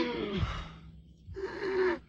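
A deep, breathy inhale and exhale in a Vicks VapoRub cold-remedy commercial, two soft airy breaths separated by a short pause, quiet and close.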